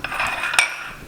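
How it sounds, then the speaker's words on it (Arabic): An egg is cracked against the rim of a bowl during home cooking for a Swiss chard, tuna and béchamel gratin, giving a single sharp tap amid soft kitchen clatter of utensils and dishes. "نكسروا هذاك البيض تاعنا"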